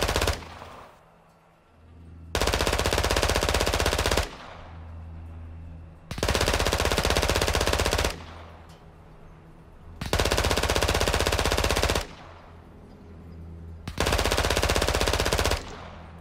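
Long bursts of video game machine-gun fire with incendiary rounds, each roughly two seconds of dense rapid shots, alternating with quieter gaps; loud, close and steady in rhythm.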